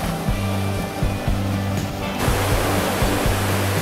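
The short Vrelo river rushes as a steady broadband wash of flowing water, loud and close, with a rhythmic musical beat playing over it.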